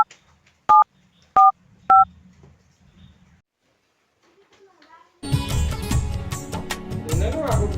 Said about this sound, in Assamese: ফোন এটাকে কৰোঁ